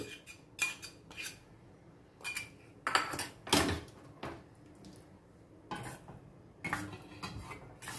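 Metal spoon clinking and scraping against a pot while stirring rice paste into an elephant yam and Malabar spinach mustard curry, in several short clattering bursts at close range with quiet pauses between, no talking.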